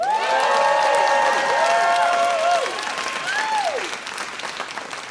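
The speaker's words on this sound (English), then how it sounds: "Huge, huge, huge round of applause for Alec running sound for us." Audience applause at an a cappella concert, loud sustained clapping and cheering from a crowd, fading somewhat toward the end, with voices sounding over the noise.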